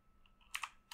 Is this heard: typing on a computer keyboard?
yes